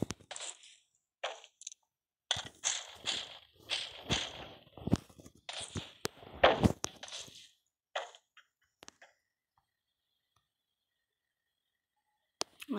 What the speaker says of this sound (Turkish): Ayak sesi duydum gibi arkadaşlar.